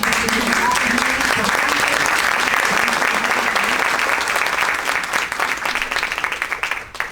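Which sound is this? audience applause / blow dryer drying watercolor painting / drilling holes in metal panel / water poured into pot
audience applause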